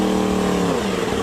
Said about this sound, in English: You want the speed, you want the engine, you want to hear it roar.